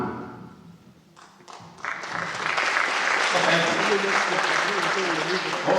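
An audience at a high school parent meeting breaks into applause after a brief spoken introduction, the clapping swelling quickly into a sustained, moderately loud wash from a roomful of people.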